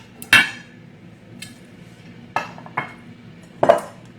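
Dish being grabbed while plating a Mediterranean chopped salad with salmon: a few separate sharp clatters and knocks of crockery, close and fairly loud, spaced by quiet gaps, no talk.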